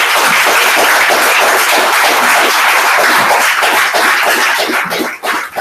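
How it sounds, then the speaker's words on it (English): An audience at a church gathering breaks into loud, dense applause that holds steady for several seconds before thinning out at the end. "if we could just give a round of applause for the Most High on today"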